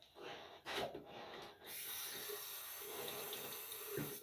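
Tap water runs steadily into a sink during a wet shave with a badger-hair brush, a close, even hiss after a few short splashes and handling noises.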